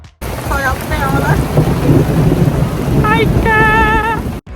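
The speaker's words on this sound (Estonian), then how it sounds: "Sajab peale." Heavy rain pours steadily at a riverside festival on the Emajõgi river, a dense, loud wash of hiss filling the whole stretch while voices call out over it in short bursts.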